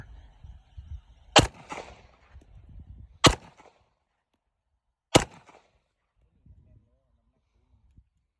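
Three sharp pistol shots from a Glock 19, Smith & Wesson, Colt 1911 or MP15-22 fired outdoors, spaced about two seconds apart, each loud and cracking with a short tail, with murmured talk and handling noise before the first.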